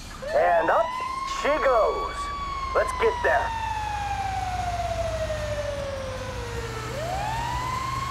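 An emergency vehicle siren wails in Grand Theft Auto V, a long tone gliding slowly downward and then rising again, with short warbling whoops at the start and a low engine rumble underneath.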